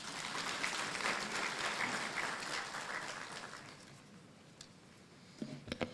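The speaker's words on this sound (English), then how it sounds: "Let's give Mr. Philippe a round of applause" Applause from a renewable energy conference audience, a full round of clapping that gradually thins and fades, ending in a few scattered claps and handling noises.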